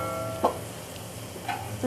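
Cauliflower pieces fry in hot oil in a wok, giving a steady close sizzle broken by two or three quick scraping stirs of a spatula.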